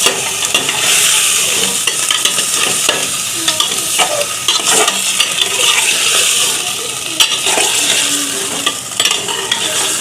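About 1 to 1.5 kg of beef browns in a pan with a steady, loud sizzle and frying crackle, while a utensil stirs and scrapes against the metal throughout.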